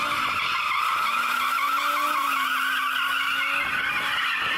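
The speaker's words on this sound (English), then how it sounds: "I just want to warm my tyres because this latest version of the RS3 does have an ability to sort of drift" An Audi RS3, latest generation, drifting with tyres squealing in a long continuous skid, loud and close, its engine droning steadily underneath with a rising tone.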